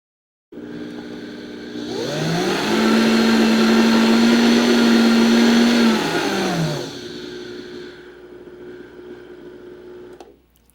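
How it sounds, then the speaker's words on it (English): A countertop blender grinds dehydrated chickpeas into flour, spinning up loud with a steady high whine for about four seconds before winding down and trailing off into quiet. "Then I just put it in my blender."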